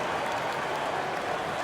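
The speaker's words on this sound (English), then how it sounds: "So the home crowd happy here as they get the victory." Home crowd in a basketball video game roaring after a victory, a steady dense wash of cheering and applause that holds at an even level with no pause and no one speaking.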